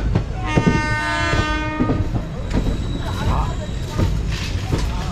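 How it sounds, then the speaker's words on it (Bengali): A passenger train rolls into Santragachi station, its horn sounding in a long tonal blast early on over rumbling wheels and rhythmic clatter of the carriages, heard from on board. "আর সামনেই আমাদের সাঁতরাগাছি ঢুকছে আমাদের ট্রেন।"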